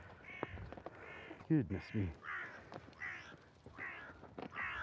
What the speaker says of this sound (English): There must be 50 crows up here.